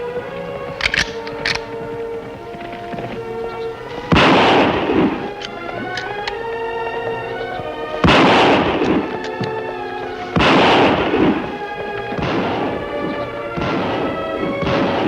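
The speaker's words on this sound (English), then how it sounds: "Shots come from that direction, Kimasabi." Gunshots ring out in a Lone Ranger western radio drama, about three loud, sharp blasts spaced several seconds apart over a steady bed of dramatic music.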